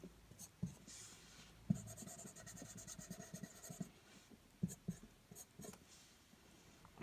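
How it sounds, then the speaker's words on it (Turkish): A pen scratches out circuit diagrams on a board in quiet, irregular strokes with brief taps, faint and close, with no talking. "İki tane birbirinin benzeri devre çiziyorum."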